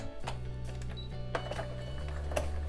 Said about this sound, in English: we're gonna sew as close to this edge as we can all the way through